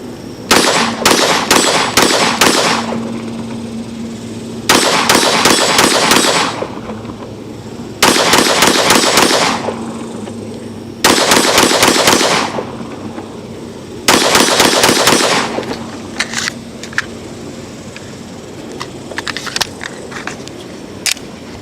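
A Smith & Wesson M&P .22 Mag 2.0 pistol fires in five loud, rapid bursts of close shots, each separated by a short pause, followed by a few scattered lighter clicks and single reports.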